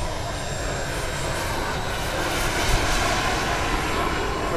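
A large model jet aircraft carrying 8 litres of fuel flies at an air show, its engine a loud, steady roar that holds unbroken throughout with no voices.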